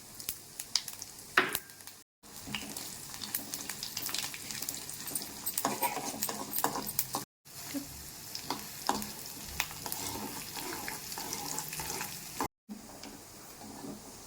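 Garlic tempering sizzling and crackling in hot oil for a peanut chutney, steady busy frying with a few stirring scrapes and brief dropouts, close and fairly loud, no talk.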